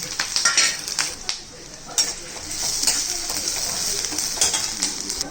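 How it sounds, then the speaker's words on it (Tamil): Coriander seeds, dried red chillies, black pepper, cumin and fennel frying in hot oil, with a steady close sizzle and intermittent scraping stirs of a utensil against the pan. "இப்போ எண்ணெய் காஞ்சிச்சு, போட்டு வறுத்துக்கலாம்."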